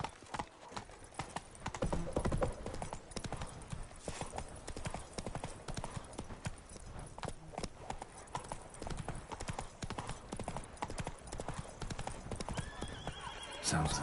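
Roach, Geralt's horse in The Witcher 3 video game, gallops with steady, rapid hoofbeats over a dense game soundscape. A whinny rises near the end.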